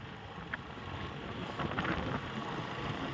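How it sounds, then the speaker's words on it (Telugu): Strong storm wind gusts across open ground, a broad roaring rush with microphone buffeting that swells slightly toward the middle and stays loud throughout. "ఈ గాలికి ఎక్కడైనా ఒక చోటైనా చెట్లు పడిపోయి ఉంటాయి నాకు తెలిసి అంతా వీస్తూ ఉంది గాలి"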